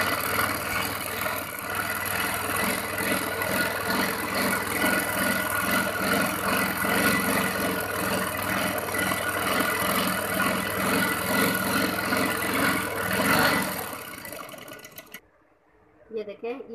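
Machine stitching on folded fabric for a shalwar hem with ring lace, a steady fast mechanical whir running continuously and close up for about fifteen seconds before cutting off abruptly.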